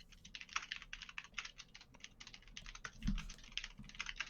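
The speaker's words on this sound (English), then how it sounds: "I was just typing" Rapid, uneven clatter of keys being typed on a computer keyboard, close and fairly quiet, with brief pauses and a soft thump partway through; no voices.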